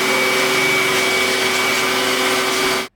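A loud, steady motor whir with a high-pitched whine from a Roomba S9+ robot vacuum, running continuously close by, then abruptly cutting off at the end.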